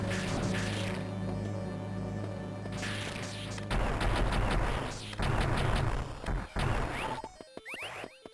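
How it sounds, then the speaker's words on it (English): Rapid bursts of missile fire and explosions from the Metroid: Zero Mission video game, loud crashing blasts that come in clusters and then thin out into a few final hits and electronic game sounds. "We are using a lot of missiles."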